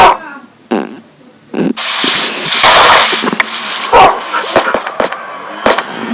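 A dog barks and yelps in several short, sharp bursts close by, with scattered rustling and household noise between them.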